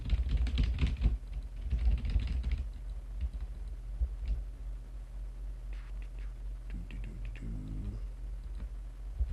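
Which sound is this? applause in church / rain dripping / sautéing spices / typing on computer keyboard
typing on computer keyboard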